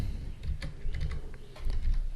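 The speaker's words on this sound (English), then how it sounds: "just press Win and R on your computer keyboard to open the run program" Keys on a computer keyboard click in quick, uneven bursts, close and fairly quiet, with no voice over them.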